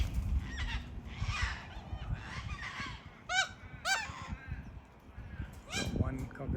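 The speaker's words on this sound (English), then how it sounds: "Got one cockatoo caught in a Corella sandwich though." Wild cockatoos and corellas screech and squawk close by in a rowdy flock. Harsh calls overlap and come in bursts over a steady background rumble.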